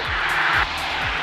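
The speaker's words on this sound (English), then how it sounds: "Still flying the plane, though." Small single-engine plane in flight on an IFR cross-country trip, its engine drone steady and loud in the cabin throughout, with low rhythmic pulses underneath.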